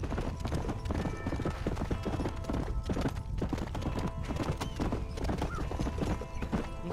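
A horse's hooves clip-clop in a quick, steady gallop rhythm across Red Dead Redemption on PC, close and continuous with faint game ambience underneath.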